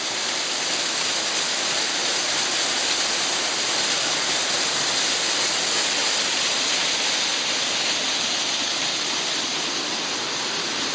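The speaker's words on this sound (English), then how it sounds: "here we're sitting above a little waterfall at the pools" A small waterfall spills into rocky pools in Iao Valley, Maui, giving a steady, close, full rush of falling water that holds level for the whole stretch with no voices.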